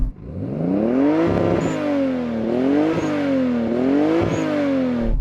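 A Toyota Supra's engine revs hard, pitch climbing and falling in three repeated swells with clattery shifts between them, loud and close with no talk.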